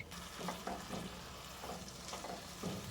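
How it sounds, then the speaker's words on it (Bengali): Mushroom and capsicum stir-fry in a pan, a soft sizzle with a few scraping stirs of a spatula, quiet and close. "এরপর মাশরুম ক্যাপসিকামটাকে দিয়েও নাড়তে থাকবো দু মিনিট"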